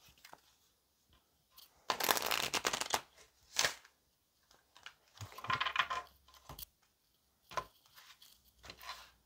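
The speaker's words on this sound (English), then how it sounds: "let's get one more shuffle" Tarot cards being shuffled in several quick riffling bursts, close up, with short pauses and soft handling noises between them.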